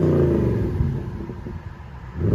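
Audi S4/S5 4.2L V8 exhaust revving with a deep throaty rumble that swells, drops off into a burbling idle, then climbs again, loud and close with no voices.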